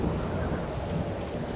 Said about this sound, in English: well needed rain